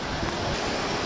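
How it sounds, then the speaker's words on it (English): A waterfall fed by Heaven Lake at Changbaishan, a steady, dense roar of falling water, close and constant with no voices. "We've arrived at the waterfall now"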